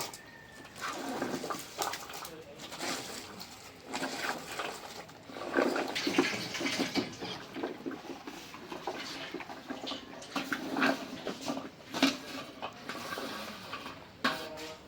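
Rice and mixed vegetables are rinsed in a pot of water, with sloshing, splashing and pouring alongside clinks of the metal pot, in irregular close bursts and no talking.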